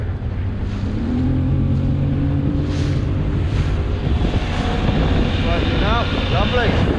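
Outboard motorboat engine running steadily and revving slightly higher while cruising on the sea off the south coast near Southampton, loud and continuous under heavy wind rumble and water noise, with a voice speaking briefly.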